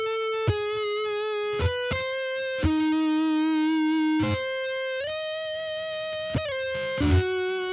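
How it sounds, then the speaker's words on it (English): Electric guitar run through stacked distortion pedals plays a string of sustained, smooth, rounded single notes one after another, each struck with a short pick attack and held, loud and close with no voices. "there's this thing that happens with stacked distortion pedals where the tone gets really super round and even and smooth"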